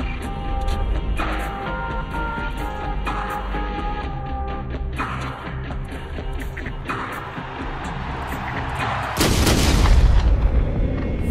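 A gunshot rings out in a tense movie scene at a public event, a sharp burst near the nine-second mark over a dense, rumbling dramatic score with low booms.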